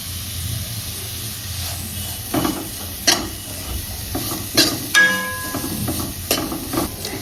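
Vegetable momo stuffing seasoned with pepper powder, garam masala and salt is sautéed in a pan, a continuous sizzle broken by sharp scrapes and clanks of the spoon against the pan, with no talk.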